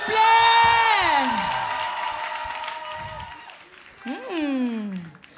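Audience at a live TV music show whoops and shouts with long rising and falling cheers, applause blended underneath, loud at first, easing, then surging again near the end.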